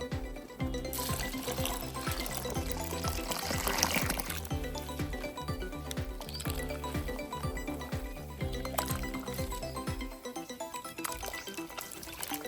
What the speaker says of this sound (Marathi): आता ह्याच्यामध्ये पाणी टाकायचं चांगलं भरपूर आणि नंतर मग गाळून घ्यायचं.